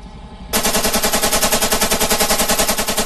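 Automatic machine gun fire at the Big Sandy machine gun shoot, a long unbroken string of rapid, evenly spaced loud shots that starts abruptly after a quieter moment and runs to the end.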